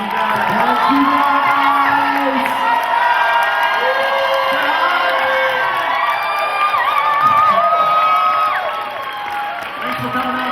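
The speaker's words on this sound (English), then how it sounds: "Give one more big round of applause." A convention crowd at a Rhode Island comic con panel applauds and cheers loudly, with whoops and shouts rising over steady clapping that fades near the end.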